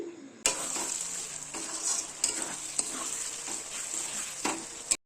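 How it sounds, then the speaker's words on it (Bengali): Tomatoes, salt and spices for a Bengali chicken and potato curry fry in a pan with a steady close sizzle, broken by repeated scrapes and clinks of a spatula stirring against the metal. "এখন সব উপকরণগুলো বেশ ভালো করে কষিয়ে নিচ্ছি"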